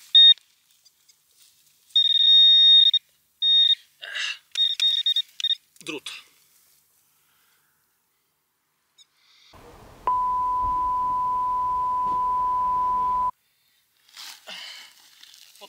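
Metal detector sweeping a wartime battlefield in Poland emits a series of steady high electronic signal tones in short bursts, then one longer lower sustained tone, with someone speaking between them.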